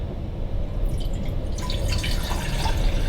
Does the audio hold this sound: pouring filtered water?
yes